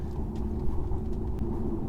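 A 2013 Audi Allroad Quattro cruises along a road with a low, steady rumble of engine and tire noise heard from inside the cabin, even and unbroken.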